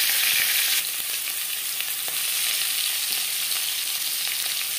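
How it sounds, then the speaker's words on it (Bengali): Boiled potatoes fry in refined oil for an aloo mutton curry, giving a steady, bright crackling sizzle with occasional pops and faint stirring clinks throughout, close and loud, with no voices. "আমি রান্নাটা করছি রিফাইন্ড অয়েলে। সবার প্রথমে আমি আলু ভেজে নেব।"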